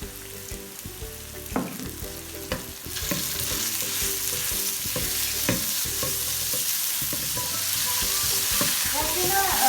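Minced chicken, hand-chopped fine, hits a pan of frying onions for chicken kachori filling, bursting into a loud, steady sizzle after a few sharp clatters and stirring knocks, with no talking.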